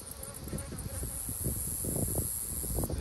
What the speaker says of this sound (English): There's a lot of bees in there with it